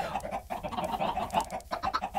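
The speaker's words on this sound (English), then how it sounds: "Apparently, killing the chickens does consume the arrow permanently." Chickens in the video game Minecraft, rapid clucking close by in short bursts of varying loudness.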